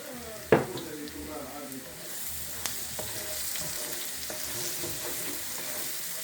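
Seafood paella ingredients frying in sesame oil and being stirred in the pan, a sharp clank of the utensil at the start, then a steady close sizzle with occasional scrapes.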